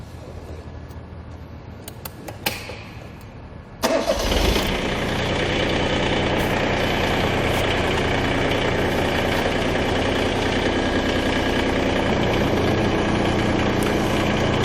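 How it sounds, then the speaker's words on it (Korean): Small farm machine engine, a compact tractor or walk-behind cultivator with rotary tiller blades, shown for a safety lesson: a few mechanical clunks, then the engine catches near four seconds and settles into a loud, steady close idle. "실질적으로 작업이 되는 거는 제가 시동을 걸어서 보여드리겠습니다."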